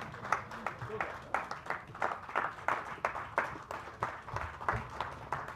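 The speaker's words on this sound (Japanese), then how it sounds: "皆様拍手でお迎えください。" Applause from an audience welcoming an actor at a post-screening film talk, faint, scattered claps in an irregular rhythm, with some voices underneath.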